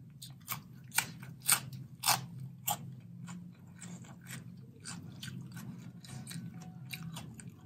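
Someone eats Thai fresh shrimp papaya salad with large raw shrimp: close, crisp crunching bites in a quick cluster, then softer, steadier chewing against a low background hum, with no talking.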